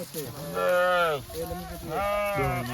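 A flock of about 500 sheep and goats, grazed in Chhattisgarh by herders from Rajasthan, bleats in wavering, harmonic cries, two long loud calls close by with other animals overlapping.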